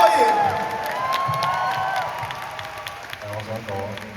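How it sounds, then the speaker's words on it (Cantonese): An audience claps and cheers at a music awards ceremony, a dense wash of applause with a few whoops that fades gradually, while a voice speaks over the end. "俾啲掌聲"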